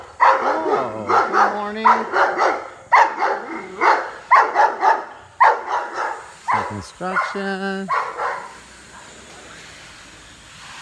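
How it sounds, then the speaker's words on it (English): Guard dogs in the Philippines bark in a repeated burst of loud, close barks, with someone speaking briefly among them before the barking stops. "Got some doggies here."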